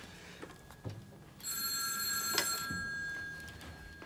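A telephone bell rings indoors in a drama scene, a bright metallic ring lasting about a second and a half after a few soft knocks and movements, fairly faint and with no talk.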